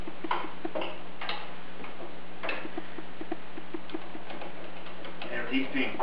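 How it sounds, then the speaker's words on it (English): Sharp clicks and ticks from quarter-turn spring-loaded screws being pushed and twisted while a Trax Alu-Box rack is mounted on a 2008 Gen II Hayabusa, a handful of close, isolated clicks over a faint steady hum. "with these being quarter-turn spring-loaded screws, push on them and twist"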